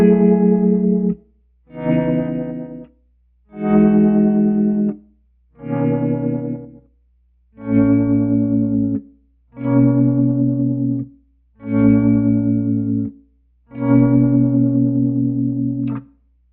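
Synth tones run through a Sparks analog harmonic processor, with an LFO sweeping the filter cutoff: eight sustained notes, each lasting about a second, separated by short gaps, with a shifting filtered timbre and a phased stereo quality.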